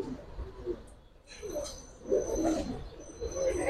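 Soft pigeon cooing from full silver aluminium-coloured pigeons, low murmuring coos rising and falling close by over a faint background, with a brief higher chirp early on.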